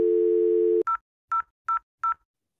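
A telephone dial tone holds briefly, then cuts off into four short, evenly spaced keypad beeps as someone dials their own number; each beep is clean and isolated, separated by silence.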